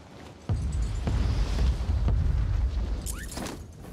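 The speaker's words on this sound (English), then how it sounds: "Friendly mortar strike on the way." Mortar strike explosions boom in Call of Duty Warzone on Rebirth Island, several heavy, rumbling impacts landing in quick succession over a continuous low roar. They sound fairly close and loud, with a faint higher whistle near the end.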